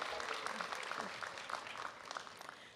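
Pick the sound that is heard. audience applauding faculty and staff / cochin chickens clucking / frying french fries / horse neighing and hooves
audience applauding faculty and staff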